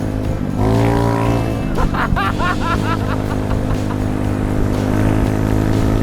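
Modified Volkspod motorcycle powered by a Volkswagen Beetle engine, revving loudly up close, its engine note rising and wavering steadily throughout with a brief rough burst partway through.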